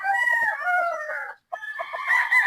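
A 3-year-old sweater gamefowl rooster at a game farm crows loud and close in two strained, wavering bursts with a short gap between them.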